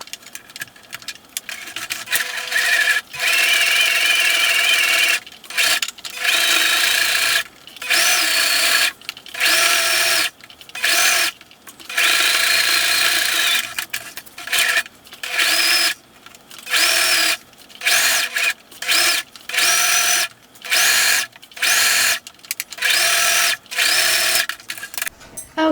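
A sewing machine stitches the long side of outer fabric for a slouchy tote bag, running in fast, loud bursts separated by brief pauses throughout, close up and without talking.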